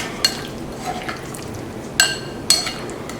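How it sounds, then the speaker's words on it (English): Ingredients spiced with cinnamon are stirred together in a bowl, giving soft scraping swirls broken by a few sharp clinks of a utensil against the rim, close and without talk. "So just mix it together."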